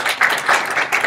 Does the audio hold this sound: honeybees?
no